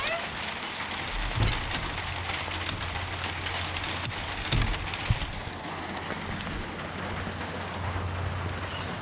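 Steady patter of rain on a chicken coop roof, a soft continuous hiss with occasional louder drips, and a low hum underneath.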